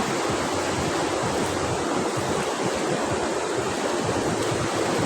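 River water flows and rushes steadily as a broadband wash, loud and constant, with no speech over it.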